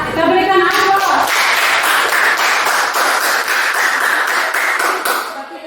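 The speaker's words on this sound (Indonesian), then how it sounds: "Ya, kita berikan aplaus." In a classroom lesson, students applaud loudly and steadily for several seconds, the clapping dense and close before fading slightly at the end.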